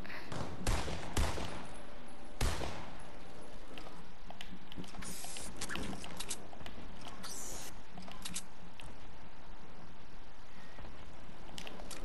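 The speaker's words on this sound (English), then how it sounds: "Have you heard my shots?" Gunshots in the Fortnite video game during a hide-and-seek match on the original season one map, sharp scattered shots and short bursts standing out over a low steady background hum.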